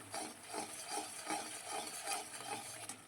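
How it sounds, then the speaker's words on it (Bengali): Egg tadka masala stirred in a pan: a steady rhythm of soft scraping strokes, roughly two each second, over a faint sizzle, close by and quiet with no talking. "এবার ভালো করে নাড়াচাড়া করে নেব।"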